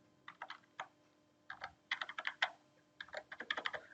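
Keyboard typing while entering rows into an Excel spreadsheet table, close and fairly loud, in quick bursts of keystrokes with short pauses between them and no talking.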